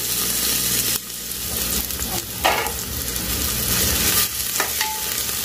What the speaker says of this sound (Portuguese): Vamos esperar a cebola dourar, bem douradinho,